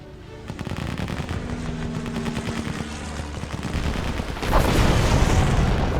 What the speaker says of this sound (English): Let's just call in an airstrike and finish off this cruiser.